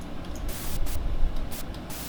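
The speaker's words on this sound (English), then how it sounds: "It's just white noise" White noise generated by programmed code, a steady broadband hiss with pulsing brighter bands, loud and continuous with no talk.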